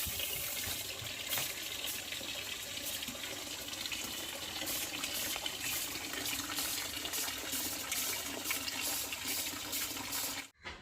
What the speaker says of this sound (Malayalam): വെള്ളം ആദ്യം വളരെ കുറച്ചേ വരികയുള്ളൂ പിന്നീട് കൂടി കൂടി വരും